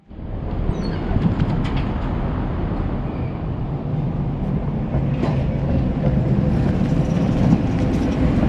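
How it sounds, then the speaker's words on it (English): A historic Tatra T2 tram runs through Prague, with a steady rolling rumble, wheel clatter and squeaks heard from on board, continuous and fairly loud. "it's operated by historic trams like this beautiful Tatra T2"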